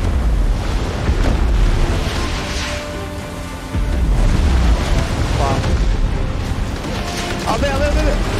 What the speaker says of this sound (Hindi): ओ भाई मिसाइल गिर रहे हैं